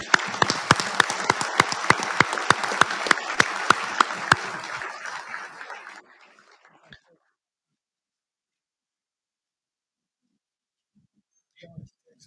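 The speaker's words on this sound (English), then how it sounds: "Please join me in a round of applause." Audience applause at an awards dinner for installations and logistics honors, a burst of close, dense hand clapping lasting several seconds before cutting off, followed by near silence and a faint sound near the end.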